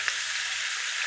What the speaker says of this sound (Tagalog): pirituhin natin ang ating baboy, ang liempo